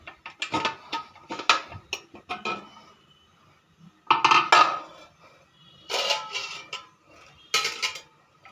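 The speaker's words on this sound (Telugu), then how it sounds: "రుచికి పడ సాల్ట్ వేసేసి ఇట్లా రుబ్బుకున్నామండి, మెదుపుకున్నాము పప్పు గుత్తితోటి" Cooked dal with salt is mashed in a pot with a wooden masher: bursts of knocking and scraping against the pot come in irregular clusters with short pauses, close and fairly loud, no voices.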